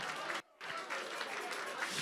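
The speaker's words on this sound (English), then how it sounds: "Clap your hands and pray." Church congregation clapping hands during a prayer service, a dense loud wash of applause that cuts out briefly near the start and then resumes steadily, with voices mixed in.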